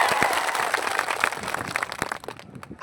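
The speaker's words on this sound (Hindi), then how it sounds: "इनके लिए सबसे पहले आप लोगों को तालियों के गड़गड़ाहट होनी चाहिए" At a rally speech for a tribal workers' organisation, a crowd bursts into loud, dense clapping that stays busy for a few seconds before thinning out toward the end.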